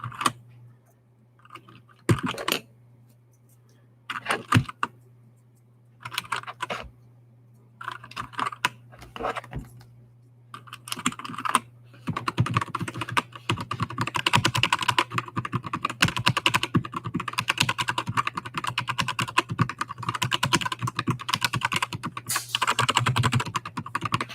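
Typing on a Keychron K4 keyboard with some switches lubed and others stock: sparse single keystrokes at first, then a dense, continuous run of clacky key presses close to the mic over a steady low hum.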